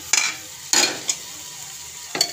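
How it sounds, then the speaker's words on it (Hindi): Cabbage with chilli, coriander, salt, turmeric and masala being stir-fried in a pan: close sizzling with a few sharp scraping strokes of a spoon at uneven intervals. "मसाला डाल दिए, अब इसको हम अच्छे से भूंज लेंगे।"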